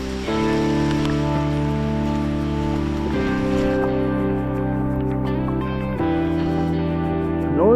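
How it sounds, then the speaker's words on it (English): Rain beginning to fall in hot, humid woodland along the Appalachian Trail in Northern Virginia, a steady continuous hiss with a constant droning tone underneath throughout. "it is starting to rain."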